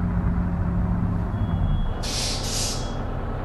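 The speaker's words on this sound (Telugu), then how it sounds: "చూసారా అసలు ఎయిర్ బ్రేక్స్ అనమాట" Air brakes on a bus in Bus Simulator Indonesia with a JB3 mod give two short, bright hissing releases over a steady low engine drone.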